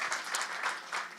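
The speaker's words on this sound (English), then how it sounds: "I'd love to give Mr. Roberts a round of applause." Audience applause at an employer networking night for graduate students, a brief burst of scattered clapping from a crowd, faint and somewhat distant.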